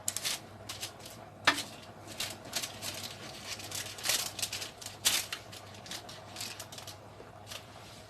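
Roasting chickpeas being stirred and shuffled on a hot oven tray give scattered light clinks and scrapes, with a sharper knock near the start, fairly quiet and steady with no talking.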